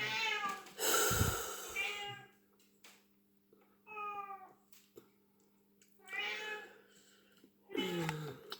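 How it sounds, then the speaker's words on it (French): A domestic cat meows repeatedly indoors, several distinct drawn-out calls spaced a second or two apart, moderately loud and close, with a low steady hum underneath and no talking. "le chat ne se tait pas"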